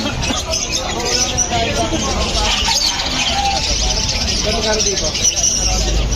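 Lovebirds chirping at a bird sale, a dense chatter of many small birds close by under someone talking throughout.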